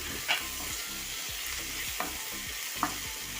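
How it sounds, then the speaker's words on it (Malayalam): Chopped garlic and tomato sauté in oil in a pan with a constant close sizzle, punctuated by a few light scraping stirs; no voices. "വെളുത്തുള്ളിയുടെയും പച്ച മണമെല്ലാം ഒന്ന് മാറുന്നത് വരെ ഒന്ന് വഴറ്റാം"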